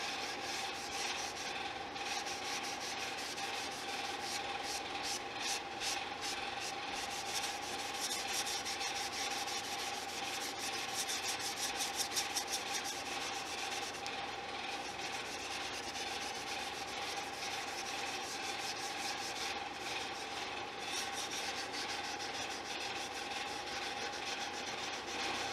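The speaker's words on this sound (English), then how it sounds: "I'm just gonna hit it lightly with some steel wool here" Steel wool is rubbed lightly over a stained Cort X6 guitar body, giving a quiet, continuous scratchy rasp with quicker back-and-forth strokes in places, close and alone.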